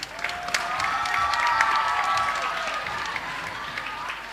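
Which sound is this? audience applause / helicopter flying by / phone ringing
audience applause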